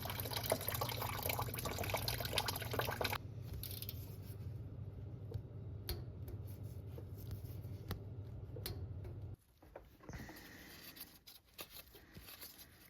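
Coolant drains in a steady liquid stream from the radiator of a 2009-2013 Toyota Corolla, a continuous watery rush that changes tone partway through, then falls quieter and thinner near the end.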